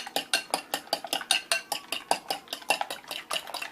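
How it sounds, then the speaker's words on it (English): A fork whisks cracked eggs in a bowl, producing a fast, regular series of clinking strokes against the bowl, about four or five per second, close and alone. "now you just take a fork and whisk it around"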